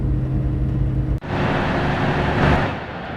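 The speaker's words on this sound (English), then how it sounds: "This is a diesel locomotive, by the way, a full diesel." Diesel locomotive engine in Train Sim World 3 rumbles steadily with a low tonal drone, then after a brief dropout swells into louder, broadband engine roar that builds and fades near the end.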